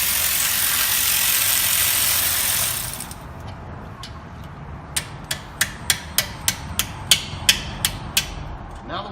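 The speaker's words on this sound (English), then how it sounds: "First you take the center pin out." Work on a 2010 Range Rover Supercharged's front brake starts with a loud mechanical whir, then about ten evenly spaced sharp metallic taps as the caliper center pin is driven out.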